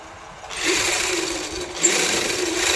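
A domestic sewing machine stitches a kameez lining in a steady, close whirring run that continues without pause and with no talking.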